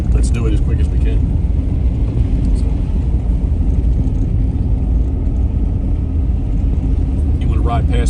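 A car drives across a snowy farm in a blizzard, giving a loud, constant low engine and road rumble mixed with wind noise. Voices talk over it inside the vehicle.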